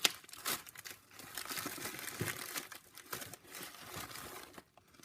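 Plastic packaging for a MoFang Mirror 2x2 puzzle cube being opened up close, with steady crinkling and tearing rustles, a few sharper crunches, and the handling continuing for several seconds before quieting at the end.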